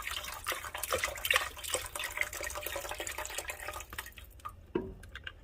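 Liquid from a 32-ounce carton glugs and splashes steadily into a soup pot, then tapers off to a few final drips and a faint clunk at the end, with no talking.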